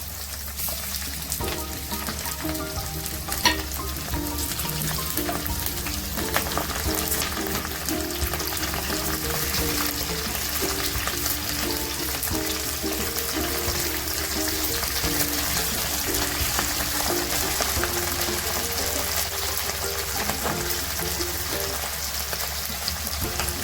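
Chopped green chilies and ginger fry steadily in hot oil, a dense, even sizzle with scattered faint pops and occasional stirring clinks running throughout, close and unbroken.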